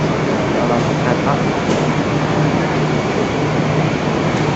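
Steady loud rumble and hum of a train, the KA Fajar Utama Yogya, standing at a station as passengers board, with a continuous low drone and broad noise throughout and no clear distinct events.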